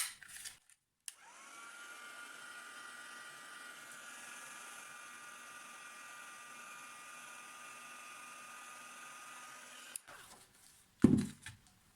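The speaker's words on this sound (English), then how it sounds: "I'm just going to use my heat tool to lightly warm it up and try and peel the tape off." A heat tool blows a steady whirring hiss for about nine seconds while warming tape on a vase, starting and stopping with clicks and a brief handling clatter at the end, moderately quiet and without talk.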